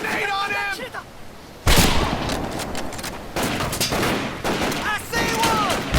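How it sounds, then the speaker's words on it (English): Bursts of rifle and machine-gun fire in the World War II Pacific shooter Medal of Honor: Pacific Assault, loud and close, with rapid volleys and booms mixed under shouting soldier voices. "Cover fire! Suppressing fire!"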